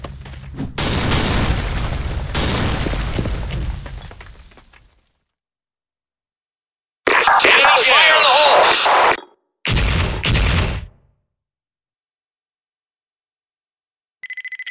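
A grenade blast in a video game: a heavy, roaring explosion that rumbles for several seconds and fades out, followed after a silence by two more loud, harsh bursts and a short electronic tone at the very end.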